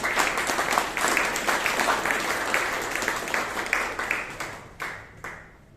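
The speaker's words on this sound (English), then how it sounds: "give yourself a huge round of applause" Dense audience applause fills a Toastmasters meeting in Bangalore, a steady burst of many hands clapping that thins out and fades toward the end.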